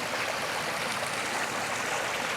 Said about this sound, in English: And it joins this larger stream.